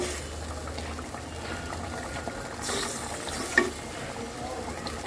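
Fish curry with potatoes and cumin powder simmers in a pan while being gently stirred, a steady soft bubbling sizzle with faint scraping strokes, close and even throughout, no talk.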